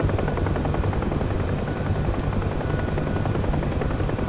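UH-1H Huey helicopter in the DCS flight simulator, its rotor thudding in a steady, dense chop with a continuous engine whine, loud and constant throughout with no voices.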